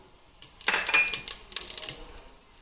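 Cumin seeds dropped into hot oil for an agathi leaf soup crackle and pop in a short burst of sharp spits, close and fairly faint, fading over a couple of seconds.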